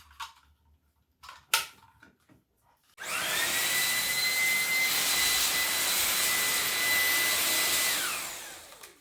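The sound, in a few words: Xiaomi Dreame V11 cordless stick vacuum running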